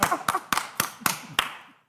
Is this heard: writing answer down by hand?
no